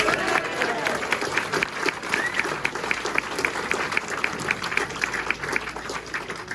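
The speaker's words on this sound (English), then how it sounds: "Let's hear it for Connor Bailey, folks." Sustained applause from a crowd at a speedway press conference, steady dense clapping throughout with a lively cheering murmur mixed in.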